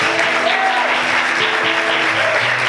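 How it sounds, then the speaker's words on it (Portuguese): Church congregation clapping during a worship service, continuous applause with voices and sung or spoken tones blending over it, close and steady. "Aplauda o Senhor essa noite."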